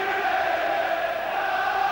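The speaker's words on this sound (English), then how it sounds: "Tremendous crowd here." Large football crowd at a 1981 Nottingham Forest v Ipswich Town FA Cup sixth-round match, a steady distant roar of massed voices with no distinct cheer or commentary.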